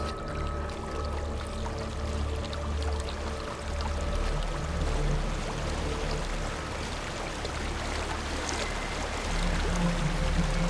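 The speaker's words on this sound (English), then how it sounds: "There's a waterfall." A waterfall in the video game Hellblade: Senua's Sacrifice gives a steady, dense roar of rushing water that holds on without a break for the whole stretch, loud and continuous with no speech over it.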